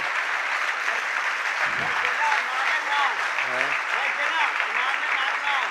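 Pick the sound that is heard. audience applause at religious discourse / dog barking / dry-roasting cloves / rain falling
audience applause at religious discourse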